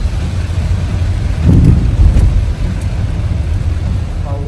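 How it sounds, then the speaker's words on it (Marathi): Heavy, nonstop rain pours with a low thunder rumble swelling midway, loud and close over a dense roar of water; faint vehicle-like noise sits underneath. "पाऊस नॉन स्टॉप."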